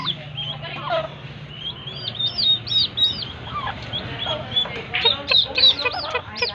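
Turkey chicks peep in high, rising chirps, clustered and repeated from near, with a low steady hum underneath.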